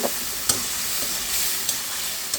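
Spiced masala with tomato fries steadily in oil for a Bengali fish curry of koi, puti and rohu, giving a continuous close sizzle broken by a few sharp stirring clinks.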